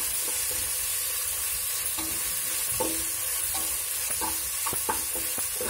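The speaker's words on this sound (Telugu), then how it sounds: "అల్లం వెల్లుల్లి వేగుతుంది" Ginger and garlic fry in a pan for coconut rice, a constant close hiss of frying with occasional stirring scrapes and small pops, no voices.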